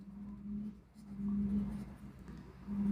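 Pen or marker scratching across a board while a span diagram is drawn for a beam slope-deflection problem, a steady close scraping with a brief pause in the middle and a low hum underneath.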